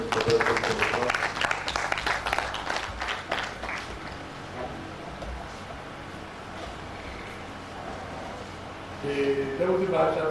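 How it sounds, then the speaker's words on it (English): At a higher-education conference, an audience applauds a professor with a burst of clapping that thins and fades after about four seconds, leaving a quiet room with faint murmuring before sound picks up again near the end. "Please, can we clap for the Professor?"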